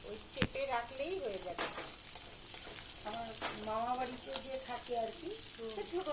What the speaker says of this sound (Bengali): তারপর তেলে পনিরগুলোকে হালকা ফ্রাই করে নিলাম।